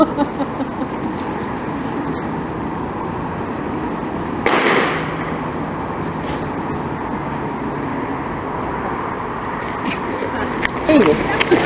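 A single sharp shot cracks out partway through an outdoor dog gun-shyness test, followed by quieter pops, and people talk before and after it.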